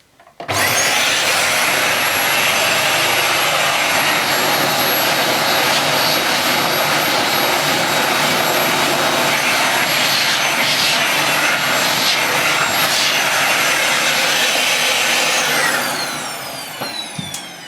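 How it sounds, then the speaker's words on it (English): A Dyson DC28c multi-floor cylinder vacuum cleaner switches on and runs with a loud, steady high-pitched whine and roar for the full length, easing slightly at the end. "It's not the lightest vacuum cleaner I've ever picked up, but then again, it's not the heaviest."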